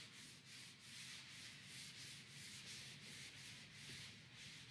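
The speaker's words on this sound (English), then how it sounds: "Just give it a quick sand." Hand sanding a rough sawn aspen board for tongue-and-groove car siding on a ceiling, a steady dry rasping scrub with rhythmic back-and-forth strokes, close and continuous with no talk.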